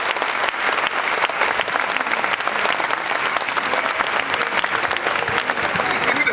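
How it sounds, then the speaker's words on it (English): Sustained audience applause fills a symposium hall reviewing Ghana's 2012 election petition judgment, dense steady clapping throughout with crowd noise mixed in, loud and continuous. "Keep on clapping. Show appreciation."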